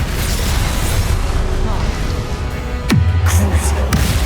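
The Incendio fire spell in Hogwarts Legacy: a continuous loud roar of magical combat, with a sharp whooshing sweep near the end that settles into a low rumble, heard over speech.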